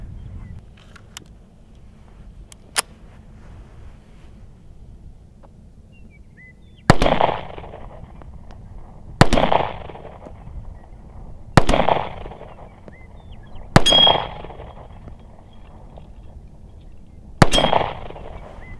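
A P08 Luger pistol fires at a steel plate on an outdoor range: five sharp, loud reports a few seconds apart, each followed by a short metallic ring. Softer clicks come before the first shot.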